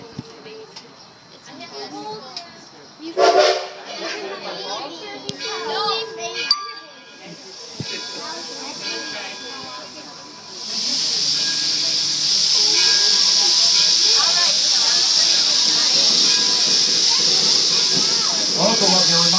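Edison steam locomotive at Greenfield Village letting off a loud, steady hiss of steam that builds in the second half and runs continuously, following a stretch of crowd noise with children's voices and a few clanks.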